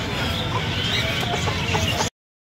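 Hens and a rooster cluck busily at a bird market over a noisy, dense background of farmyard sounds, then the sound cuts off abruptly.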